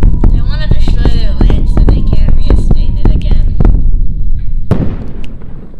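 A nuclear bomb drop in the video game WorldBox sets off a rapid string of loud crackling pops and bursts, ending in a sharper blast, with a voice talking over part of it.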